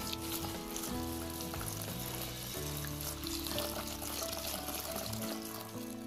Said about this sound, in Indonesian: Kita cuci sampai benar-benar bersih ya, dengan air mengalir.